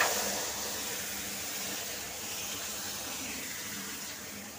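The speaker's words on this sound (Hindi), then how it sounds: "इसमें हम ये चाशनी वाला पानी डालेंगे।" Sugar syrup water being poured into semolina roasting in a pan, a steady loud hiss and bubbling sizzle that holds evenly throughout, close up with no talk.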